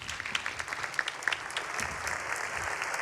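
Audience applause for Albin de la Simone at the 48th Angoulême International Comics Festival ceremony, a steady, fairly soft patter of many hands clapping for about three seconds with no voices.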